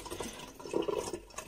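Boiled beef tongue is set into a bowl of cold water in a home kitchen, giving soft close splashing and gentle sloshing with a few light drips.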